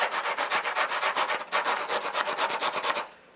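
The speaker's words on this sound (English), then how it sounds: "If I want to, I can come back and I can bevel the foam." A tool rubs rhythmically along the edge of upholstery foam to bevel it, a steady series of close, raspy strokes for about three seconds before stopping.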